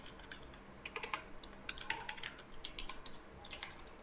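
Quick, light clicks of a computer keyboard as an email address is typed, a fairly soft, irregular burst of keystrokes close by with no speech.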